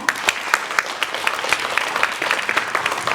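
An audience in a youth center auditorium applauds at a round-table forum on education, a steady, moderately loud wash of many hands clapping throughout with no voices.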